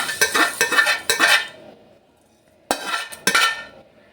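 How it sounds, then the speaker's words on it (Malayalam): Metal utensils scrape and clink against a pot in quick bursts as roasted leaves are moved into another pot, a pause of near silence, then a few more scrapes. "ഞാൻ ഇത് നമുക്ക് മറ്റൊരു പാത്രത്തിലേക്ക് മാറ്റി കൊടുക്കാം"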